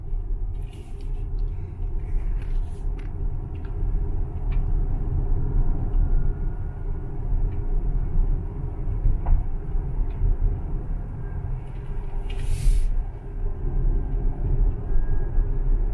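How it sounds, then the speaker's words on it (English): A 2017 Tesla Model X 75D all-wheel-drive electric car drives along, giving a steady low rumble of road and tire noise with a faint whine and no engine note throughout. "all you just kind of hear is just a whine, maybe of the wheels or the tires rubbing on the ground"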